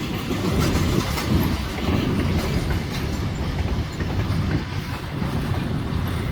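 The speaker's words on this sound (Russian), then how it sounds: "мой поезд Вот он. Уезжает дальше, в Москву." A passenger train bound for Moscow rolls past close by, a steady loud rumble with rhythmic clacking of wheels over the rails.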